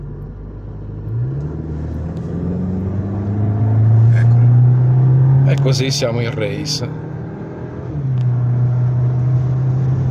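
A Cupra Formentor with a 245 hp 2.0 TSI engine and DSG gearbox revs up hard from idle, its pitch climbing and holding at a loud, steady drone before falling back. People talk over the engine.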